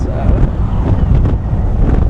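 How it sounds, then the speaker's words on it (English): Strong coastal wind buffets the microphone aboard a boat ride off Scarborough, a loud continuous roar with gusty swells and a low wash of water beneath. "It is very windy right now."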